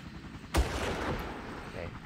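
One sharp, loud gunshot in the Far Cry video game cracks out and trails off into a rumbling decay, with a voice talking quietly around it.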